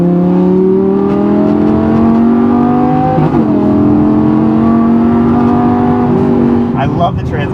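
A Lamborghini sports car pulls strongly under acceleration, its engine note climbing smoothly through a gear change, heard from inside the cabin with someone talking over the steady drone.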